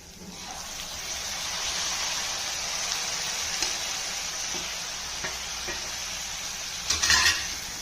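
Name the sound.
tomatoes added to frying onions and stirred in pan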